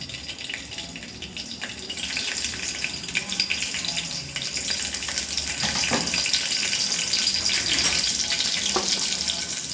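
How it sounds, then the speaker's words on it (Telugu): Green chillies dropped into hot oil in a home kitchen while cooking chicken curry, giving a steady, loud broadband sizzle and crackle that builds slightly and continues throughout, with no talking. "ఇప్పుడు ఆయిల్ హీట్ ఎక్కిపోయింది కదండి. ఇప్పుడు మొదటిగా పచ్చిమిరపకాయలు వేసుకుంటున్నాను."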